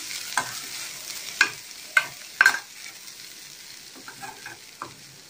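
Green gram sundal with grated coconut is stirred in a pan, with a soft background sizzle broken by several distinct spoon scrapes and clinks up close, no talking.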